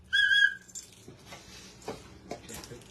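A small plastic whistle bundled with an air football gives one steady, shrill blast of under a second, loud and close, followed by faint handling taps and rustles.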